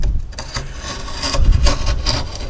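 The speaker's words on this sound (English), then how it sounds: "Use a regular old box knife to trim the little wood flashing that remains in here." A utility box knife trims leftover wood flashing during a house frame rehabilitation near the foundation, giving a close, scraping rub with several short strokes and a louder stretch midway; no talk.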